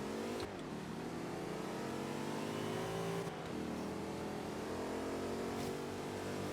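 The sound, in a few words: car accelerating in video game Forza Horizon 3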